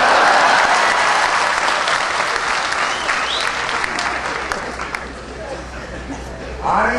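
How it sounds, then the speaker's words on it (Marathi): Dense, loud applause from an audience at a political speech fills the whole stretch, steady and sustained before gradually thinning toward the end, with crowd noise underneath. "तुम्ही टाळ्या कमी वाजवू नका"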